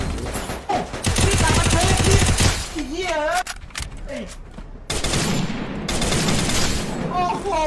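Gunfire in the Free Fire battle royale game, dense rapid bursts of shots crackling loudly through most of the stretch, with game effects and a player talking over the action.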